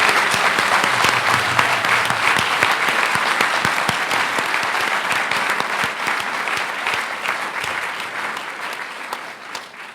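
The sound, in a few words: applause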